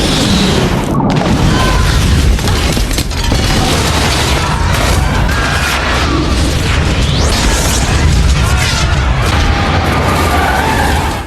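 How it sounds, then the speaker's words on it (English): Explosions in an underground tunnel: loud, continuous booming blasts and crashing rumbles pile on top of one another, dense and chaotic throughout, with heavy reverberant low end. "The violent explosions swept through the underground tunnel"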